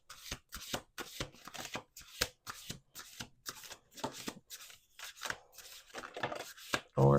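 Tarot oracle cards shuffled by hand, a quick run of crisp riffling bursts in a steady rhythm, close and fairly quiet, with a louder rustle at the very end.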